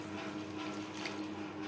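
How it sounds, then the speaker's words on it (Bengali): Water pouring steadily into a pan of silver carp fish curry over high gas flame, a continuous soft liquid rush heard close and alone. "আর দিয়ে দেব জল"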